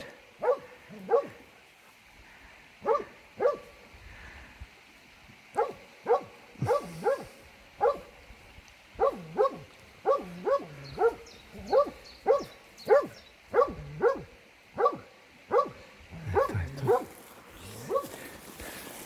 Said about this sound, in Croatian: Laje ga na 20 metra.